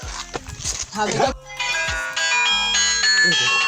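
A phone ringtone starts after a moment of chatter, a bright repeating electronic melody playing loudly and steadily over faint background voices.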